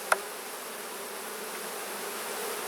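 Honey bees hum in a dense, continuous buzz at an opened hive during an inspection. There is a single sharp click near the start, and the swarm drone stays steady and close throughout.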